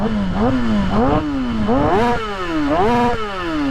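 A stunt motorcycle with a suspected fuel pump fault runs close and loud. Its engine note wavers and sags in pitch as the clutch is pulled in, rising and falling repeatedly in an uneven bog.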